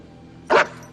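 A bulldog gives a single short, sharp bark that stands out clearly against a quiet background.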